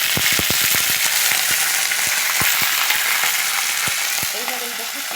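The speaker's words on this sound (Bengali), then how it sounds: "সর্ষের তেল দিয়ে দিলাম, এতে কারি পাতা দিয়ে দিলাম" Curry leaves hit hot mustard oil for a Bihari dal tadka, giving a loud, steady close-up sizzle broken by sharp crackling pops, with the frying easing off slightly near the end.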